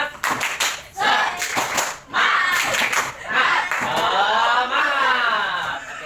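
A school class performs a rhythmic spirit clap, with groups of hands clapping in quick patterned bursts separated by short pauses. Voices chant along, and the sound carries through an indoor classroom.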